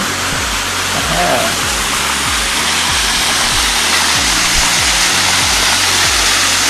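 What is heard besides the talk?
waterfall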